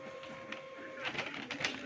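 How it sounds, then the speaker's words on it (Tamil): A photocopier printer in a photocopy shop runs with a steady electronic hum, then a series of mechanical clicks and whirring feed sounds, moderately loud with no speech over it. "பட்டன் அமுக்கி விடுவோம். பிரிண்டர் மிஷின் ஆகும்."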